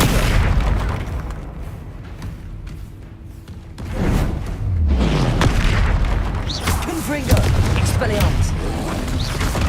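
Confringo explosive spell blasts from Hogwarts Legacy: deep rolling booms with whooshing bursts and lingering rumble, loud and repeated across the stretch, with a voice speaking intermittently over the game audio.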